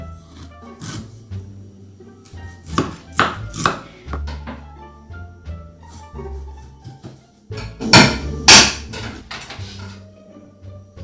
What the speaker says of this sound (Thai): ก็คือการหั่นขิงนะครับผม ครับเวลาหั่นขิงก็หั่นให้มันเป็นชิ้นเล็กๆเล็กๆนะครับ